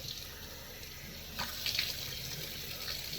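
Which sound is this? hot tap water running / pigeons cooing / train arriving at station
hot tap water running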